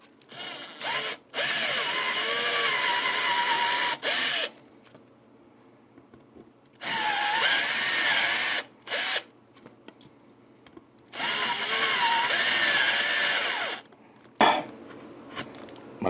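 A cordless power drill runs in long bursts of several seconds each, with brief stops between them and short final spurts as it cuts out, while working parts for a $125 Telecaster guitar build.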